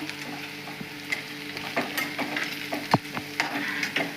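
Fried peanuts are stirred into leftover chapati upma frying in a pan, giving a close sizzle broken by several sharp spoon scrapes and clinks against the pan.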